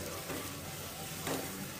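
Onions frying in ghee for Mangalore-style ghee rice make a steady, dense hiss of sizzling at close range, fairly even in level throughout the short stretch, with no voices.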